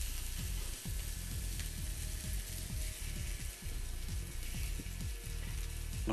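Brioche fries in butter in a pan with a constant, even sizzle, and a utensil scrapes and ticks intermittently underneath it, heard close with no one speaking.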